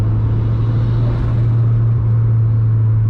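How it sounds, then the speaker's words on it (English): A turbocharged Honda Civic EK with a D16 engine and an eBay turbo drones steadily from inside the cabin while driving, a loud, even low hum with a faint airy layer on top. "Turbo noises are awesome."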